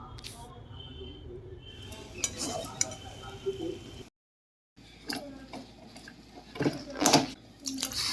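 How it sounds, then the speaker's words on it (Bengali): A spoon stirs semolina dough in water in a pot, giving scraping, clinking sounds at close range with a brief silent gap, while someone talks over it. "অল্প অল্প জল দেব আর আমি নাড়াতে থাকবো সুজির মণ্ডটা তৈরি করে নেব"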